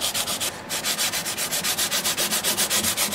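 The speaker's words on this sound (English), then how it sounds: "in places like this where I've got to do detail sanding" Sandpaper is rubbed by hand over the wood of a custom 12-string Rosa dreadnought guitar in rapid, even back-and-forth strokes, loud and close, with one brief pause near the start.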